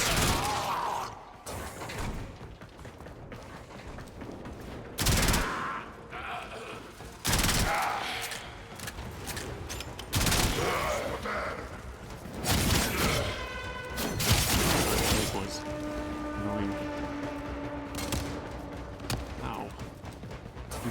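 Enemy gunfire in the game Warframe, repeated bursts of shots and loud cracks across a long stretch, mixed with mechanical game effects and occasional talking.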